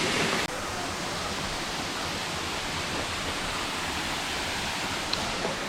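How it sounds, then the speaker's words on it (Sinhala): Bambarakanda waterfall rushing in a steady, unbroken roar of white water that fills the whole clip at an even level, close and alone, with one brief click near the start. "අපි ආව බමරකන්ද දියල්ලට."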